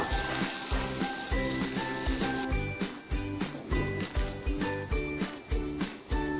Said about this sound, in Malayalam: ഒരു കാൽ സ്പൂൺ വെളുത്തുള്ളി പേസ്റ്റ് ചേർത്ത് കൊടുക്കുക പച്ചമണം മാറുന്നത് വരെ ഇളക്കി കൊടുക്കുക